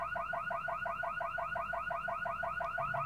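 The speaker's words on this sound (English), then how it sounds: "the car alarm went on" A car alarm sounds steadily in close range, a fast repeating electronic warble cycling evenly without pause and with no voices over it.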